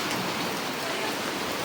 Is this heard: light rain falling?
yes